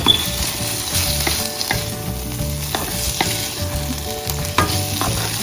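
Noodles tossed into a hot pan and stir-fried with vegetables, loud close sizzling throughout, punctuated by repeated scraping and clanking of a spatula against the pan.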